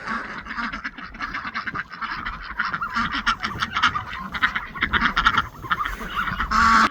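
A flock of ducks quacks and honks continuously near a duck ramp under a newly built porch roof on a small homestead, the dense chorus sounding close and steady throughout with no talk.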